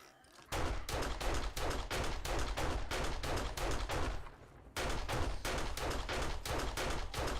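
Sustained automatic gunfire in the video game 7 Days to Die, fired at cops in a solo PC session, a loud rapid rhythmic burst that runs for several seconds, breaks briefly, then resumes.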